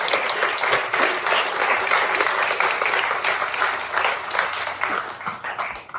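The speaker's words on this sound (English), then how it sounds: "Give them a round of applause, you all." An audience at a grand opening event for a Mississippi center applauds steadily and fairly loudly for several seconds, dense clapping that tapers slightly at the end.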